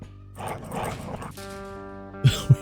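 Dogs in the video game Quasimorph make short yips and a whining, whimpering cry, followed by two sharp barks at the end, all fairly close and clear.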